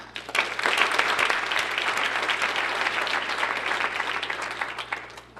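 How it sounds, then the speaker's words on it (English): A room full of people claps steadily for several seconds, a dense, even wash of applause at a Chamber community gathering that swells quickly and fades near the end. "I want to give you a round of applause."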